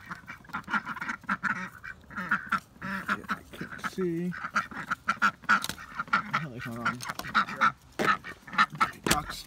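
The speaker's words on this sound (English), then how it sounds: "Ducks are making their way over." Ducks quack repeatedly in a loose, chattering chorus close by, while a person talks over them outdoors.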